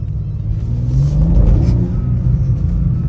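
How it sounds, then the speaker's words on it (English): A 2024 BMW M2 Coupe accelerates hard in first gear, its engine rumbling low and loud as the revs climb, heard from inside the car with no talking. "press the M1 button, give it a little more power. And we're gonna hit it in first."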